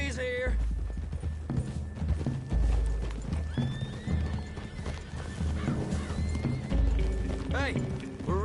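Several horses clip-clop through trees in a Western video game, with steady rhythmic hoofbeats close by and an occasional whinny, while characters talk over them.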